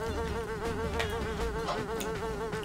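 Steady, continuous buzzing of a bee in the video game Ninjabread Man, loud and close, with a wavering drone that persists throughout without pause and no speech over it.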